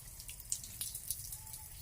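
Running water splashing steadily as Lucky the dog is bathed outdoors in hot weather, a continuous hiss with small drips and splashes throughout, moderately close and without talk.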